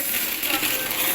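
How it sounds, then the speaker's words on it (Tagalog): Coins pour out of a broken piggy bank in a continuous close jingling rush of metallic clinks, bright and dense for the whole brief moment. "Grabe, ang daming barya."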